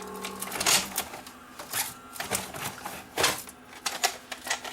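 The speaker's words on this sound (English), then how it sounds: "I didn't want to eject the tape there" A Panasonic VCR with a faulty tape mechanism ejects a tape, giving a series of close mechanical clunks and whirring clicks in uneven bursts.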